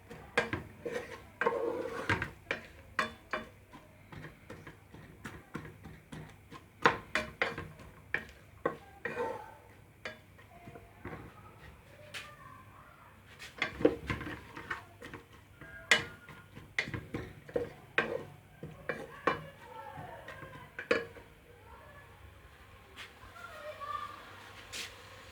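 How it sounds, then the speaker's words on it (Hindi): Onions being lightly browned and stirred in a pan while cooking turnip bharta, with irregular close scraping, clinks and taps of a spoon against the pan, quiet sizzle beneath, the clatter coming in scattered bursts. "प्याज को हम अब ब्राउन करेंगे हल्का सा।"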